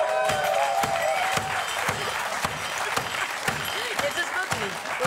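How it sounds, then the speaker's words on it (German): A studio audience on a German cooking show claps in steady rhythm, sharp regular beats throughout over crowd noise and music, with voices talking on top. "guck mal, die klatschen schon im Takt mit"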